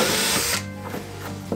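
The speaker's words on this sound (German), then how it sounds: "Ich muss 5 bohren." Close, loud whine of a power drill boring into a Gardena garden leaf collector, running steadily for about half a second then stopping, followed by quieter handling clatter.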